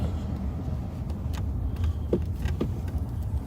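A loud car pulls away quickly at night on a street patrol, its engine rumble steady and moderately close before fading, with a couple of faint clicks and no talk.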